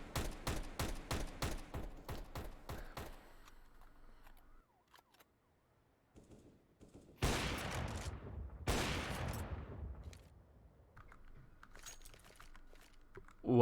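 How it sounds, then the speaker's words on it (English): Rapid rifle and upgraded-pistol gunfire in a competitive esports video game playoff match: dense bursts of quick shots up front, a short lull, then two loud, sharp volleys and scattered pops trailing off. "Just some rifle, just some upgraded pistols."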